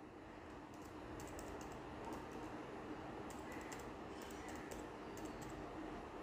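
Faint, quick keyboard clicks while Python code is typed on a computer, scattered taps over a steady hissing background, close but quiet.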